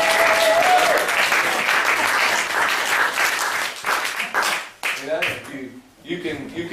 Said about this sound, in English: You can clap me because I want all the help I can get.